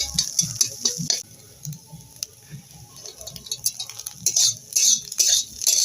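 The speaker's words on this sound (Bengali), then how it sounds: "এইভাবে খুন্তির সাহায্যে কেটে নিতে হবে।" A metal spatula scrapes and chops bitter gourd against a pan with fried egg, in a run of uneven clinks and taps, close by, with brief pauses and no talk.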